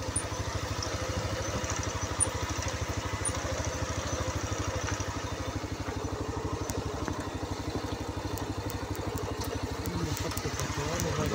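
A motorcycle engine runs steadily with a dense low throb while riding over a rough road strewn with big rocks near construction fill work, faint clatter over it and talk at times.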